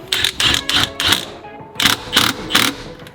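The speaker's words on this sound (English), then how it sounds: "Send it in with an impact." An impact wrench hammers a bolt tight during a wheel and steering alignment repair, firing in a series of short, loud, rattling bursts with brief gaps between them.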